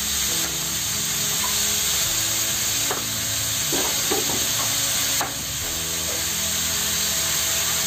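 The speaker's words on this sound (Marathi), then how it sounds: "हळद आपण चांगली परतून घेऊया।" Turmeric frying in a pan with fresh beans, a steady close sizzle under scraping stirs from a spatula, with several clinks of the utensil against the pan.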